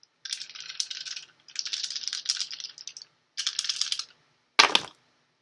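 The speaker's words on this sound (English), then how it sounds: "So I'm going to throw the dice of resonance." Dice rattle and tumble in bursts during a tarot-style yes-or-no reading, with three clattering rolls followed by a sharp knock as they land, close and clear with no talking.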